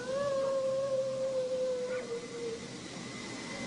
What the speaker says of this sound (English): The wailing is loud, shrill, and pierces the still night air.